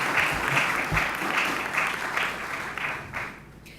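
Applause from an audience at a university pastoral gathering in the Pacific, greeting an introductory speaker: a dense burst of clapping that slowly thins and fades out near the end.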